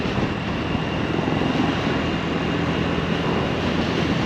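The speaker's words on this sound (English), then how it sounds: "It's a cool plane up ahead, if you can see that at all." A propeller airplane flies somewhere ahead over a park road in Louisville, a steady broad drone heard from a moving motorcycle, continuous and fairly loud with road and wind noise mixed in.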